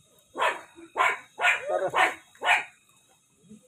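A dog barks five times in quick succession, close and clear, followed by a faint whimper.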